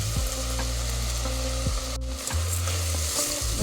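Bisi bele bath ready mix with green peas frying in oil, a steady close sizzle with scraping stirs throughout and a low hum underneath, no talking.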